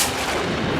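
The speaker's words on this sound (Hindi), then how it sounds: "ये तो गोली की आवाज है" A single loud, booming gunshot blast, dense and close, filling the brief moment with no voices.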